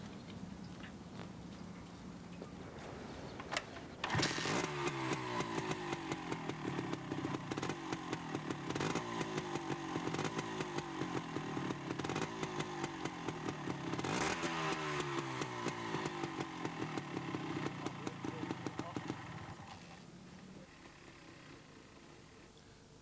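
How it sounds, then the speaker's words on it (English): A training motorcycle's engine, from a 1990 CBT rider course, starts with a burst and runs at a steady, rapid ticking idle close by, blipped a few times, then shuts off and leaves quiet background. "The instructor demonstrates the correct method of starting and stopping the engine."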